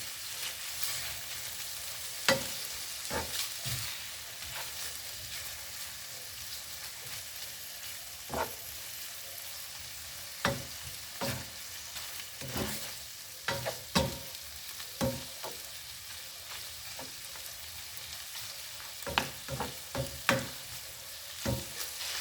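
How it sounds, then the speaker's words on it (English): Bacon fries in a pan for a spaghetti sauce, a quiet continuous sizzle punctuated by irregular spatters and utensil clicks throughout. "The bacon is cooking."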